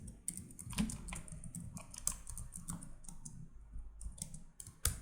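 Typing on a computer keyboard, a quick irregular run of close, crisp key clicks with brief pauses between bursts, quiet room and no voice.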